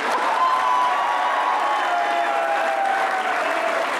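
A talk-show studio audience claps steadily and loudly, sustained applause with light cheering throughout.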